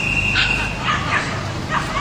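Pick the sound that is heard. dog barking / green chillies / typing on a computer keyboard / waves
dog barking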